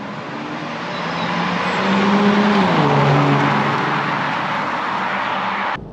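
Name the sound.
Aston Martin DB9 Volante V12 engine driving at speed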